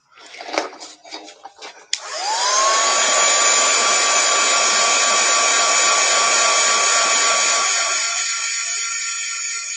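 A few clicks and handling sounds, then a hair dryer switches on and blows steadily with a loud, high whine, drying freshly painted autumn decorations such as a bunny and a squirrel.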